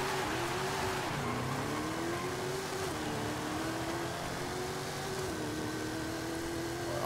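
Plymouth Barracuda in Forza Horizon 5, tuned to 1500 horsepower and driven with a manual clutch, accelerates hard with a loud, steady engine roar that repeatedly climbs in pitch and drops at quick gear changes.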